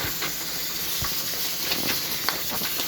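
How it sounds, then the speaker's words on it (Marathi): Oil heats in a kadhai for a home-cooked chicken dish, giving a steady, soft hiss with a few faint pops and crackles scattered through it. "आता कढईमध्ये तेल टाकलंय."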